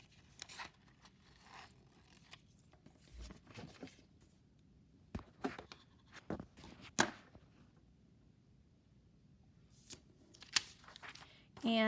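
Scissors snipping paper ears for a craft, scattered short crisp cuts and rustling handling of paper, quiet and close, interspersed with speech.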